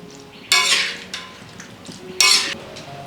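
A spoon stirs powdered asafoetida into homemade pickle, with two distinct bright scraping strokes of metal against the container, close up and separated by quiet.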